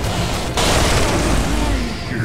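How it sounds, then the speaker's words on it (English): Dota 2 middle tower collapsing in a loud, dense boom that bursts in about half a second in and rumbles on with crumbling debris over a steady game soundscape. "Radiant's middle tower has fallen."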